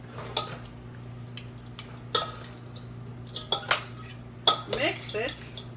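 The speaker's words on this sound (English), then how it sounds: "And you have to mix it good so that the noodles spread" Utensils clink and scrape against a bowl as a cold, oil-free vegan brown rice noodle salad is tossed, with several separate clatters spaced over a steady low background hum.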